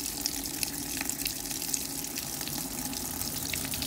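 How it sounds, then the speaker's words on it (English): Water running and dripping inside a top-load washing machine filling for its rinse, a steady close hiss and trickle with faint drips, no voices. "And then this dripping here is just a runoff from down like that."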